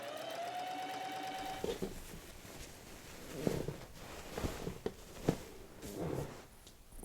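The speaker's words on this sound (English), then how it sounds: "I'm going to switch to a heavy duty needle and stitch across" A sewing machine with a heavy-duty needle stitches across thick layers of fabric and interfacing. A steady whirring run at the start gives way to slower, uneven bursts of stitching with clunks, close up and with no speech.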